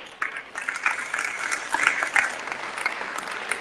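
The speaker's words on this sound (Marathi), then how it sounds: "टाळ्या कमी झाल्या, जोरदार टाळ्या वाजल्या पाहिजे" Audience applause fills a women's day felicitation ceremony for women traffic police officers held by the Thane traffic branch: steady, dense clapping from a crowd, moderately loud throughout with small swells.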